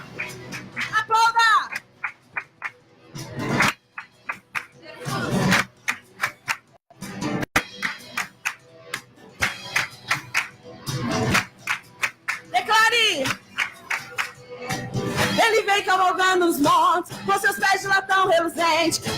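Rhythmic congregation clapping during a Portuguese-language missions worship service, steady handclaps mixed with loud singing and music throughout, dense and close.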